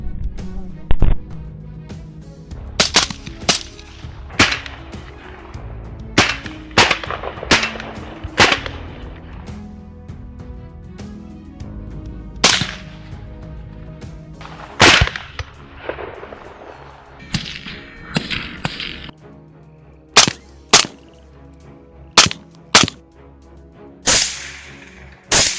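Sharp, loud gunshots crack out during a night hunt for wild boar, coming irregularly, some close together and some spaced apart, over a low background rumble.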